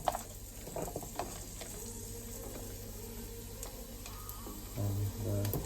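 Chopped onion sizzles in hot sunflower oil, a soft steady hiss with occasional stirring scrapes and a low hum from nearby, quiet and close.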